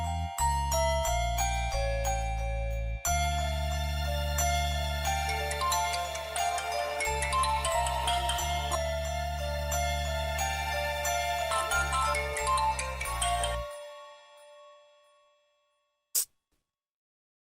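A mobile phone ringtone melody plays loud and steady for about thirteen seconds during a call in a Tamil TV serial scene, then cuts off, followed by a brief faint beep.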